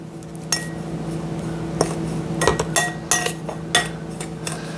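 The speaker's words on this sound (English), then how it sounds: "these are the dry ingredients. So I'm gonna mix these up." Dry pumpkin pie ingredients being stirred in a bowl, a utensil clinking and scraping against the sides in irregular taps, close and fairly quiet.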